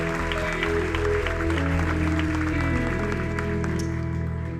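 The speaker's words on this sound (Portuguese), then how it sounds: "Você pode dar um aplauso para Jesus." Church congregation applauding during a celebration service, a steady sustained wash of clapping with low music or organ tones underneath, no speech.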